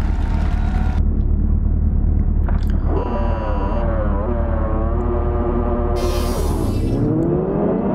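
Racing motorcycle engines at the race start in RiMS Racing, a loud rumbling roar with rising and falling revs that climb in pitch as the bikes pull away. A sharp hiss cuts in near the end.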